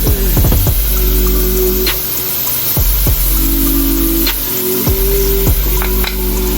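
Garlic and peppers sweat in a hot pan with a steady close sizzle, broken by a few sharp clinks and scrapes of a utensil stirring the vegetables.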